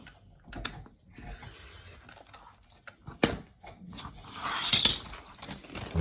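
Quilt fabric being cut along a stitched line while piecing a New York Beauty block, heard as faint, irregular clicks and soft scraping under a quiet room, with a few sharper ticks near the end.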